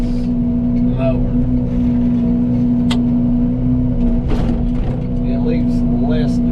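A Fecon forestry mulcher mounted on an excavator runs while clearing a roadside, giving a loud, steady mechanical drone with a constant low hum that holds unbroken throughout.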